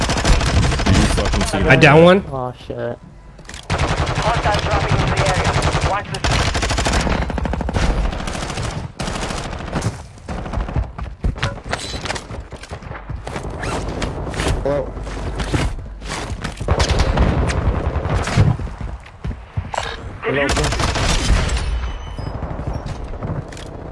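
Video game gunfire in rapid bursts of machine-gun fire and scattered single shots, loud and close, with voices talking over and between the volleys.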